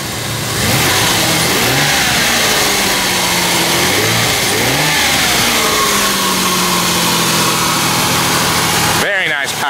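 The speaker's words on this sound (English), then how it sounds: "Very smooth running engine." A 2000 Ford Mustang V6 convertible engine runs close and loud, idling steadily with a few smooth revs rising and falling before settling, then an abrupt clunk at the end.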